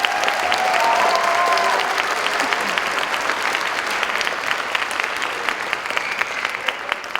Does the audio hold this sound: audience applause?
yes